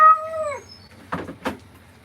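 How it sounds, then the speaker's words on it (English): A partially pelted Persian cat gives a drawn-out, wavering meow during grooming, followed by two short rustling or scraping bursts, close and with no talking. "Why is the cat meowing like that?"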